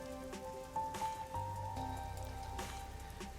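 Steady rain falling on surfaces in the video game Master Detective Archives: Rain Code, a soft continuous patter with a few faint tones beneath, fairly quiet and with no voices.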